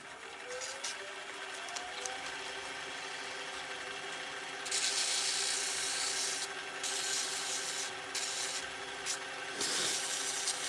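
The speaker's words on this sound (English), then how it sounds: "A little bit more, I'm gonna sand it." Hand sanding on wood gives a steady, close rasping rub that swells into louder, brisker strokes partway through, with brief pauses between passes.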